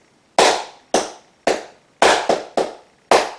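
Flamenco palmas hand-clapping in a triple compás for fandangos and sevillanas: sharp, close, loud claps in a steady repeating pattern with one quick doubled clap, played alone without talk.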